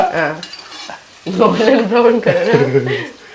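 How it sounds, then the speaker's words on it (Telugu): Onions fry and sizzle in a pan for a mutton curry while being stirred, with scraping and soft crackle running steadily under a nearby voice that talks throughout. "గోల్డెన్ బ్రౌన్ కలర్ వచ్చే వరకు వేగాలి ఉల్లిగడ్డ"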